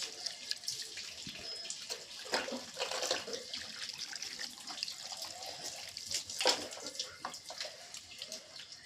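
Water runs from a tap as a face is rinsed, a soft, continuous splashing with uneven bursts of splatter, fairly faint and close, with no talking.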